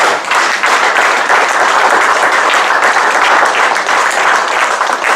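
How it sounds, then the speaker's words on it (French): A church congregation applauds to acclaim the Lord, a dense, loud, sustained roar of many hands clapping with crowd noise running through the whole stretch. "Est-ce que vous pouvez acclamer le Seigneur à ce moment?"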